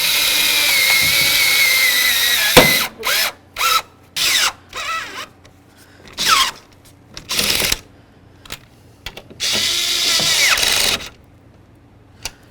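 A power tool runs in a series of short bursts, stopping and starting to snug down three mounting nuts on a tow mirror fitted to a Dodge Ram, each burst loud and close with quiet gaps between.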